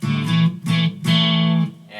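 Distorted electric guitar notes from a Boss GT-1000 processor's fretless guitar simulation slide and sustain with a smooth gliding tone, played in a few loud, separate phrases.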